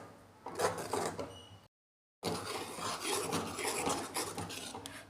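A spoon scrapes and rasps against a pan while stirring masala with salt and chili powder, with steady metallic scraping broken by one brief silent gap.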